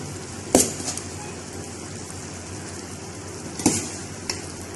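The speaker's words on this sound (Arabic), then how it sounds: "الحين ببدأ احط باقي كمية العيش" Rice tipped into a pot of chicken with grated coconut, two sharp scraping stirs with soft rattles after each over a low steady background, no voices.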